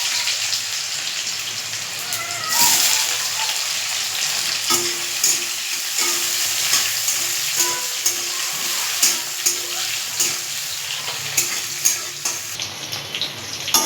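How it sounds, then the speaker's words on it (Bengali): Mango pieces fry in hot oil with black mustard seeds, giving a steady close sizzle. Sharper pops and crackles break through now and then, and no one speaks over it. "আমটা একটু ভাজা ভাজা হয়ে গেছে।"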